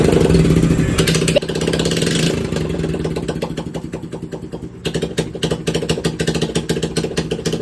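Motorcycle engine idling after water got into the exhaust, loud and close with an uneven, sputtering pulse and a brief dip before the rumble picks back up, no speech.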